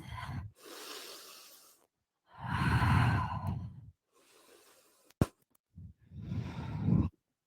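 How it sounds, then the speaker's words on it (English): Slow, audible ujjayi breaths during a vinyasa power yoga class: long ocean-like hissing inhales and exhales, three or four full cycles close to the mic, separated by pauses and ending with a sharp click. "Staying with your Ujjayi breath."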